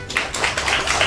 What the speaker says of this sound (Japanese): 拍手してくれた